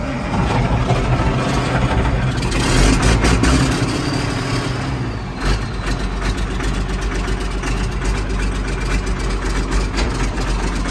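An Allis Chalmers 7020 tractor's engine cranks, fires up and settles into a loud, rough, uneven idle that carries on steadily, close by.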